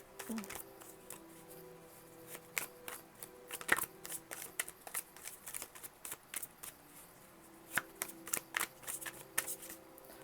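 A tarot deck is shuffled by hand in quick, close bursts of crisp riffling and card slaps, irregular clusters of sharp clicks over a quiet room with no speech.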